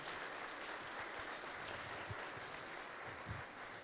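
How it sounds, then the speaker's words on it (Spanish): Audience at a 2022 Spanish-language family conference day gives a steady wash of applause, fairly even and moderately distant, with no talk over it. "Bueno, agradecemos con un aplauso a Marcos."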